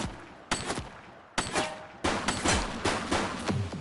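Gunfire in the video game The Precinct, several sharp bursts of shots in quick succession with echoing tails, growing into dense rapid fire toward the end, loud and without talk.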